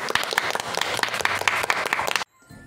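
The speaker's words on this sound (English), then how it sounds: "you all deserve a round of applause" A class of students claps in applause, dense rapid clapping from many hands close by that cuts off abruptly near the end, leaving near silence.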